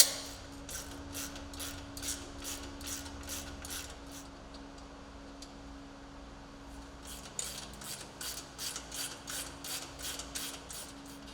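A ratchet works on the lower A-arm through-bolt fasteners of a Polaris RZR, a quick series of rhythmic clicking bursts over a low steady hum, with a pause midway before the clicking resumes.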